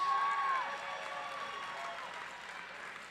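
A crowd at a black-tie boxing event applauds the two fighters after three rounds, a loud burst of clapping and cheering that eases into a sustained, slightly quieter roar.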